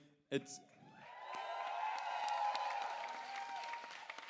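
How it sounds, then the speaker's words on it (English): At a school cabaret, an audience breaks into applause and cheering after a short sharp sound, building into a sustained swell of clapping and whoops heard from within the hall. "she always gets a big cheer"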